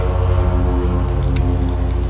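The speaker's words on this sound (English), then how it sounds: "I'm still unsticking cards here." New oracle cards from an unboxed deck are peeled apart, giving soft, squishy, sticky separating sounds close to the listener, with faint crackles and a low steady background.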